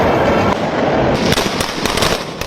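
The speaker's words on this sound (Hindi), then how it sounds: "आतिशबाजी हो रही थी, लोग पटाखे फोड़ रहे थे" Fireworks and firecrackers go off at a celebration in India: dense, loud bursts and crackling with sharp pops, continuous and close, with no speech.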